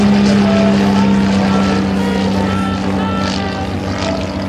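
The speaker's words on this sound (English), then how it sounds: "PT-19 being flown again by Mark Dennis" A PT-19 primary trainer airplane flying at an airshow gives off a steady, loud propeller-engine drone that holds evenly throughout, with no voices over it.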